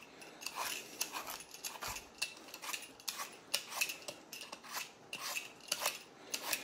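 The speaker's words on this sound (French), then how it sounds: "Et on va venir le couper et le nettoyer." A knife cuts and cleans a turnip for poule au pot, giving a series of crisp scraping and slicing strokes in an irregular rhythm, close and fairly quiet with no talk.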